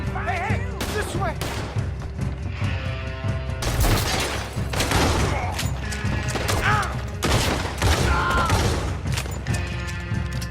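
Gunfire erupts during a bar fight in Red Dead Redemption 2: repeated loud shots and crashes in dense bursts, mixed with shouting voices and game noise throughout.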